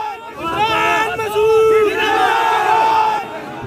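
A large crowd at a Congress political rally in Saharanpur roars and chants loudly as a politician is carried on shoulders in a procession, with rising and falling voiced shouts filling the whole stretch.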